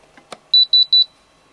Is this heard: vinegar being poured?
no